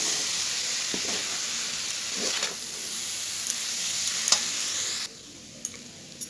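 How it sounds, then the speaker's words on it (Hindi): A fresh coconut laddu mixture is stirred in a pan over a steady low sizzle and hiss, with scattered soft scraping strokes; the hiss drops away near the end, leaving a few faint taps. "ध्यान से इसे चलाते रहें, ज़्यादा देर के लिए ना छोड़े, वरना नारियल का रंग चेंज हो जाएगा।"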